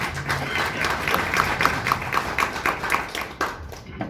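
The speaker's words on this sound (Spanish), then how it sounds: "Un aplauso para nuestro compañero y muy apreciado." An audience at a university talk in Mexico claps for a speaker, starting as a dense patter and thinning into separate, rhythmic claps before fading. The sound is close and fairly loud.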